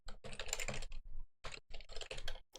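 Fingers type on a computer keyboard, close and crisp, in quick bursts of clicking keys broken by short pauses, with no voices over it.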